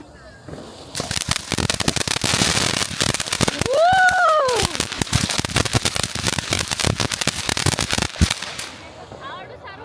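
Firecrackers burst during Diwali celebrations, a dense run of sharp cracks and pops, with a rising whistling rocket in the middle and voices chatting underneath.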